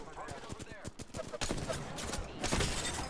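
Video game gunfire, dense rapid volleys of shots growing louder and heavier across three seconds, with voices talking faintly beneath the shooting.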